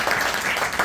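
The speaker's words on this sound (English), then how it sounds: "let's have a good round of applause" A live audience at a house programme gives a round of applause, a dense steady patter of many hands clapping that holds at an even level for just under a second with no voices over it.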